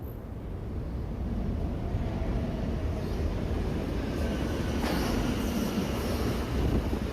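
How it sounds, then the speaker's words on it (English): A New York City subway train rides along with a steady loud rumble and rattling roar of wheels and carriage, constant and close throughout, with no talking. "I took the train downtown to see about it"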